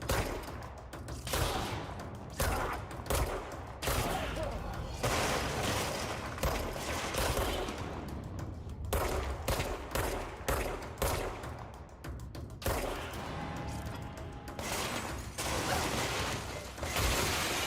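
Gunfire from the Control video game erupts in repeated loud bursts of rapid shots, with crashing impacts and shattering debris between volleys across the whole stretch.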